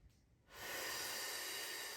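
A long, strong exhale through the nose rises after a quiet start and holds as a broad breathy hiss, close to the microphone, during a gentle back-focused pilates exercise.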